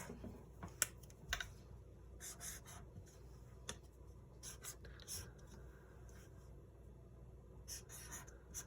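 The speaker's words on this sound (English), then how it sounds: "we're going to put some numbers on those circles." A pen writes numbers on cut-out paper circles, giving soft scratchy strokes in short bursts with brief pauses between them, close and quiet under a low background hum.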